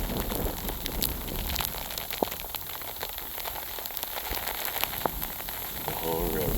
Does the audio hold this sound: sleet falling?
yes